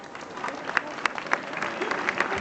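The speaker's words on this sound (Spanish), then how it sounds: "Un aplauso para nuestros artesanos, por favor." A village crowd applauds the rope-making artisans in Tazones during a costumed royal visit reenactment, scattered clapping with a few sharp individual claps standing out, mixed with murmuring voices.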